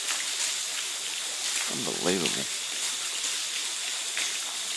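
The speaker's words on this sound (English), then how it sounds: "Can't see me, but it's freaking raining." Heavy rain pours down steadily as a dense, continuous hiss, with a voice breaking in briefly partway through.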